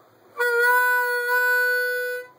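A single harmonica note on the 4-hole draw, bent heavily, sustained for about two seconds with a steady reedy tone, close and alone before fading out.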